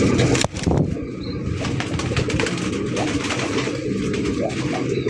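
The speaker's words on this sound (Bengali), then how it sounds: "বাচ্চা শো একজোড়া মাক্সি রেসার কবুতর" Young Maxi racer pigeons coo softly and close while a sudden burst of wing flapping sounds near the start, followed by steady murmuring coos and rustling in a loft.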